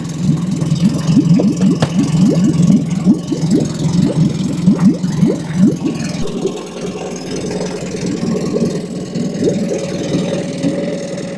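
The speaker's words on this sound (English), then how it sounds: "So that's the big engine started up." A Tohatsu 20 hp EFI outboard boat engine idles in neutral with a rapid, uneven chugging and knocking, loud and close, settling into a steadier low drone toward the end.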